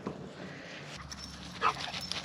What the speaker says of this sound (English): I think the dogs wanted to come play in the field too.